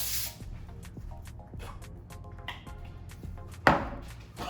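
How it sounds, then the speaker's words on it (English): Cooking spray hisses in a short sharp burst onto a foil-divided baking pan, preceded by light clinks and taps of handling the can and pan. "Ooh, a lot of spray, girl."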